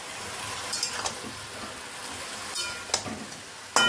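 Malabar spinach greens fry with a soft continuous sizzle in a pan, broken by a few light clicks and scrapes from a stirring spoon.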